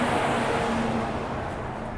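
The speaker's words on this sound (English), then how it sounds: "let this truck go by" A truck rolls past on a nearby road, a steady broadband rumble with a low engine hum that slowly fades over two seconds, with no talking.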